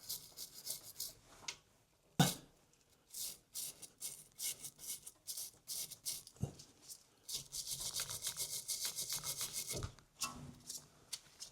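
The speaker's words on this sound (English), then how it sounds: "I've got some little wire brushes here, so I'm just going to clean off around that cap" A small wire brush scrubs around a brake caliper cap in short, rapid strokes, bursts of scratchy rasping broken by brief pauses and a few metallic knocks, close and clear.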